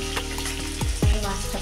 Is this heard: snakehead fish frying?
yes